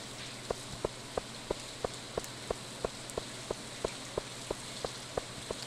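Steady rain falling in the Stardew Valley video game, a soft continuous hiss under a regular series of light, evenly spaced taps that repeat about every third of a second.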